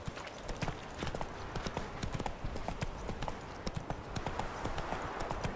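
A horse's hooves clip-clop steadily at a brisk walk in The Witcher 3: Wild Hunt, an even rhythm of close hoof strikes at moderate volume.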